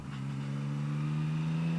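A close motorcycle engine hums at a steady, smooth idle-like rev, a continuous mid-pitched drone with no talking.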